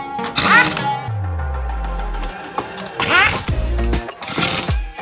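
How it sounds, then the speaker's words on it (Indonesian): An impact wrench tightens bolts on the CVT cover of a Honda Beat FI scooter, giving loud mechanical whirring bursts with falling pitch, repeated three times in close succession. "kita kencangkan bautnya ya teman-teman."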